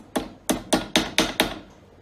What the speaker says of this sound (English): give this a little tap with a hammer just to apply the metal a bit into the shape that we want